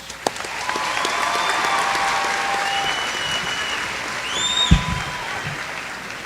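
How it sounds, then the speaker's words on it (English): An audience applauds at the Merrillville High School class of 2025 graduation ceremony: steady, sustained clapping from a large crowd that swells slightly before tapering off. "Once again, give them a round of applause."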